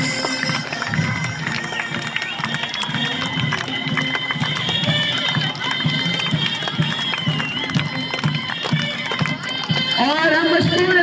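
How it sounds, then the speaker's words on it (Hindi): Cadet students at a school retirement ceremony clap and cheer in a loud, steady crowd roar that fills the room for several seconds, with shouts and voices mixed in throughout. "आपकी भरपूर तालियां"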